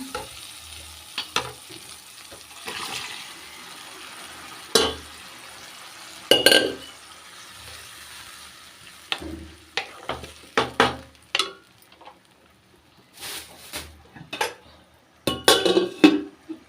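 Spoon stirring garam masala into a double beans gravy frying in a pan, with irregular metallic scrapes and clanks against the pan over a low sizzle, close and fairly loud, no talking.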